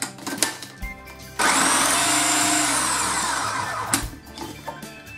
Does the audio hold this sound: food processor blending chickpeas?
yes